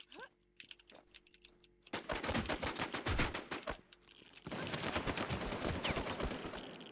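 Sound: gunfire in the video game WarZ

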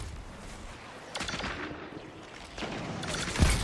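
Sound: Syncopation-53 pulse rifle gunfire in video game Destiny 2

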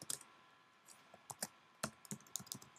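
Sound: typing a password on a computer keyboard

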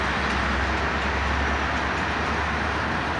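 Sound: CP freight train locomotives rumbling past

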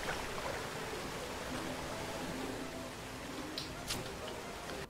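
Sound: waterfall sound in a video game

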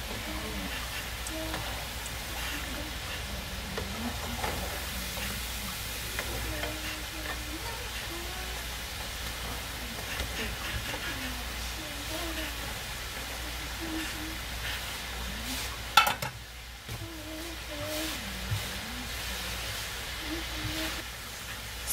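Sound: kokoro sizzling while frying in oil

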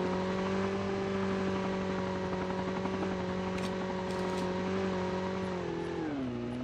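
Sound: line of cars driving in the video game Call of Duty Mobile

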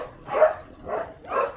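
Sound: dogs barking in kennels

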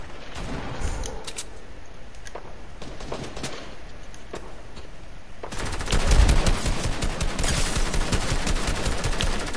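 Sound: gunfire from another player in Fortnite (video game)

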